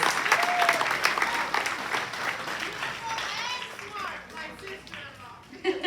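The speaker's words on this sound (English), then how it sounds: "let's give them a round of applause for that" Applause at a 2024 Charter College Pasco graduation ceremony as graduates wearing gold honor cords stand: dense, steady clapping from a large audience filling the hall, with scattered children's voices and cheers mixed in and fading slightly toward the end.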